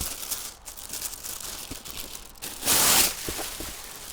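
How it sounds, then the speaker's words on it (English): Plastic wrapping around a set of Tesla Model Y all-weather floor mats crinkles and rustles up close, building to a brief loud crackling burst near the end. "So let's unwrap these."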